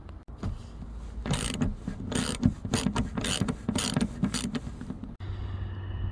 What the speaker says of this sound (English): For that you will need the 7/8 socket. So just unscrew it.